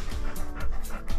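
A dog pants rapidly and rhythmically close by outdoors at a seaside holiday park, steady breathy puffs with no talking.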